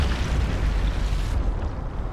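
Two grenades exploding in the video game Sniper Elite 5, a loud rumbling boom with dense low-end debris that rolls on and fades after about a second and a half.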